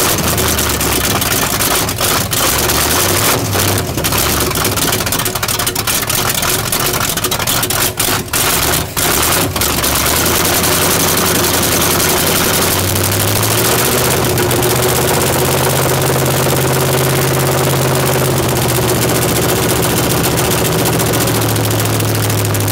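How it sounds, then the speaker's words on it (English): A V8 engine swapped into a Chevy S10 runs loud and close at idle with a deep, lumpy rumble and uneven pulsing, its pitch shifting as the idle changes. "Turn that idle up, Bush, so you don't have to sit there"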